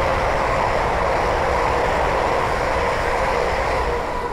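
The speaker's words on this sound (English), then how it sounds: "the next train to pass by is a pair up London to the Western Railway Class 350s from Northampton to London Euston" A pair of coupled London Northwestern Railway Class 350 electric units roar past on the West Coast Main Line at Linslade, a loud, steady rush of wheels and air that fills the whole stretch.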